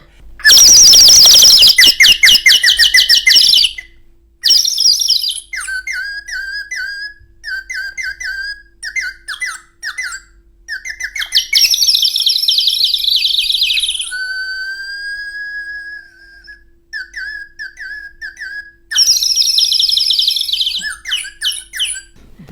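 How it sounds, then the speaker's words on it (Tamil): Sparrows chirping and whistling in dense, repeated bursts of sharp tweets and squawks, loud and close, with short pauses between flurries and no talking. "குருவிகள் சவுண்டெல்லாம் சேர்ந்தா அப்புறம் கேட்பாங்க"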